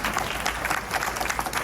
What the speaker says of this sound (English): Ladies and gentlemen, a big round of applause for Dave Smith